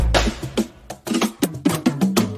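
A drum roll from Ransom Bits in an afrobeat beat plays as an uneven run of punchy hits of mixed pitch, some close together and some spaced apart, loud and continuous throughout.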